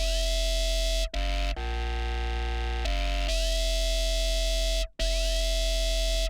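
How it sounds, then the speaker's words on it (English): Harsh, bright music mix with aggressive, piercing high frequencies, played loud and dense with abrupt cuts and sudden changes between sections. "Got some really aggressive high frequencies there."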